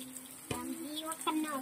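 Fish coated in masala frying in a pan, a steady close sizzle with a few brief clatters and a faint voice partly over it.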